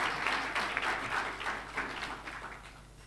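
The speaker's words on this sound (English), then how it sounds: "May we have a round of applause for our honorable judges" Audience applause for the honorable judges at a magistrates' and judges' association 30th anniversary event, moderate sustained clapping from a hall crowd, fading slightly toward the end.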